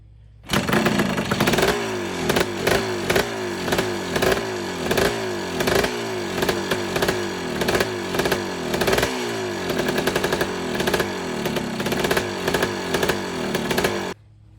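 An ATV engine running with no air box, revving hard in rapid, rattling bursts for about fourteen seconds, loud and close, with no talk.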